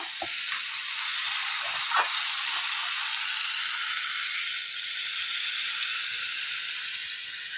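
Water poured into a hot pan of boiled Malabar spinach, taro and prawns: a loud burst of sizzle and steam that settles into a continuous hiss.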